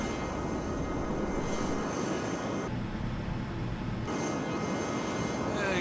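A Webb T-33A jet climbing out after takeoff, its engine a steady, loud broadband roar that fills the whole stretch without a break.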